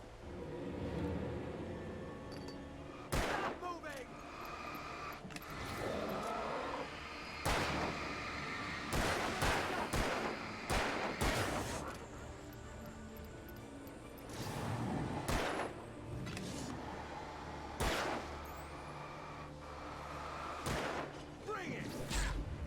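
Sharp gunshots from the video game Alan Wake crack out repeatedly and irregularly, some in quick clusters, over a steady game backdrop while people talk throughout.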